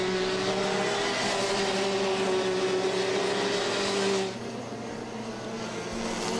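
Kart engines whine in the RMC Asia Trophy and RMC Thailand final-day race. A loud, sustained, high buzzing note holds steady, then drops away abruptly near the end and leaves a quieter engine drone.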